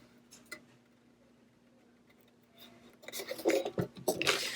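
Vinyl scraped down onto a curved surface: faint scratchy scrapes at first, then a louder, dense rasping rub for the last second and a half, close by.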